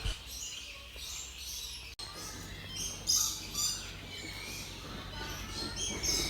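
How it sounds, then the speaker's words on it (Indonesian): Many birds chirp and tweet in overlapping bursts at a bird park in Palembang, faint and fairly distant, against a low steady background hum. "Di sebelah kandang iguana itu banyak burung ya guys ya, jadi banyak banget nih suara burung."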